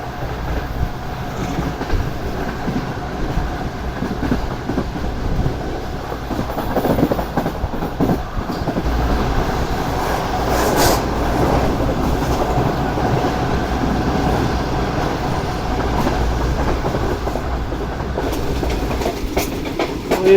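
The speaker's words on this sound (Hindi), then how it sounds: "ज़बरदस्त स्पीड में ट्रेन है" The Pak Business Express passing at high speed, a steady loud rolling roar with rhythmic wheel clatter on the rails that holds for the whole stretch, no voices.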